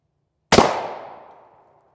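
A single sharp rifle shot strikes an NIJ Level IV body armor plate, one loud crack with a short ringing decay trailing off in open air.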